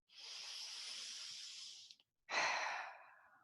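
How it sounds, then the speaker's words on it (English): Close, audible breathing during a Pilates class: a long airy exhale of about two seconds, a short pause, then a second strong breath that fades out, with no talking. "Breathe in and breathe out."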